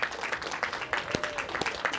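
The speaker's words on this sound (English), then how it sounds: "If we can give him a warm applause for Andrew." An audience gives a photographer a light welcome: a modest patter of distinct hand claps at a quick, uneven rhythm, fairly faint and spread through the room.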